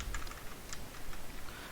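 Quick taps of a computer keyboard as code is typed, a few light clicks scattered over a low background hum, close and quiet.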